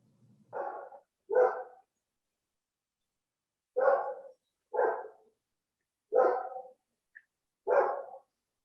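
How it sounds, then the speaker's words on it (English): A dog barks from a neighbour's house: six sharp, fairly faint barks in loose pairs separated by quiet gaps, heard alone with no talk. "a rude Washington dog"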